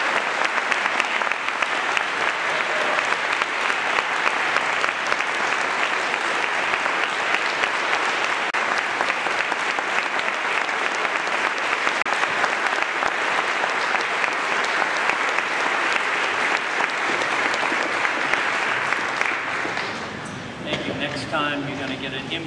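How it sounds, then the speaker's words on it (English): Audience applause at a pro-life assembly fills a hall in a steady, loud wash of clapping for about twenty seconds, then fades out as a voice begins speaking. "Let's give him a round of applause."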